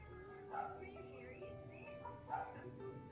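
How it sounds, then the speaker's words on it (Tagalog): Dogs barking at a home, a couple of yipping barks at a distance under a soft background hum, with faint voices nearby. "Mga aso mo."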